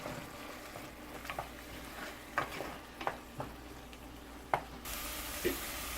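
Pav bhaji vegetables cook in oil in a pan, giving a steady low sizzle with occasional soft stirring scrapes and brief clicks, fairly quiet and close, with no talking.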